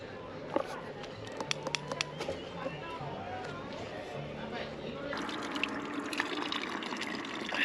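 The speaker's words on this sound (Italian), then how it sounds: "fontane d'acqua." Running water from fountains at San Martino di Castrozza splashes and trickles steadily outdoors, with a faint voice talking underneath.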